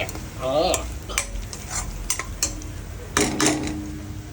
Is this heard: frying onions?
yes